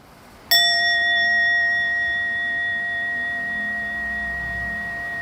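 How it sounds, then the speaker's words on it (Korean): One clear bell strike rings out with a sharp onset, then a pure, steady tone sustains and slowly decays over several seconds against a faint background hum. "우리의 경험은 이 종소리를 듣는다."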